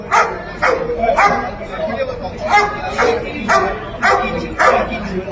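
An angry, restrained dog barks in repeated loud, close bursts, roughly one every half second, while people talk and exclaim over the barking.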